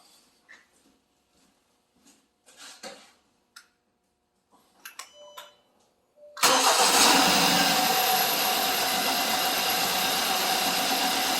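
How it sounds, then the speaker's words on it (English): A 2015 Hyundai Sonata with a cylinder 2 misfire code is started: faint clicks and ticks come first, then the engine catches abruptly and settles into a loud, steady idle close by. "We'll start our vehicle and see if we got a spark."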